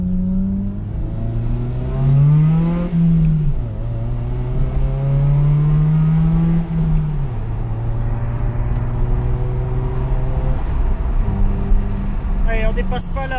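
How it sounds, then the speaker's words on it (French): A car accelerating on a long straight road, its engine note climbing in steady sweeps with audible gear changes and a constant road hum inside the cabin. "on va faire une petite accélération là"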